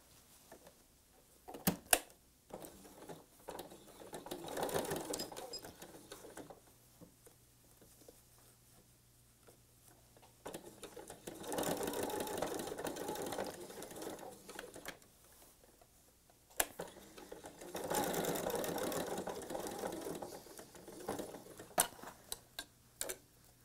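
Sewing machine stitching a cathedral window patriotic pillow, three sustained bursts of rapid mechanical ticking separated by pauses with scattered clicks and handling sounds, close and moderate in level.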